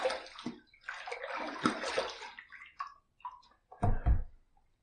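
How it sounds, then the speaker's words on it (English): Water splashing during a wet shave rinse, with irregular sloshing bursts close by that trail off into scattered drips, ending in one louder splash. "Let's rinse."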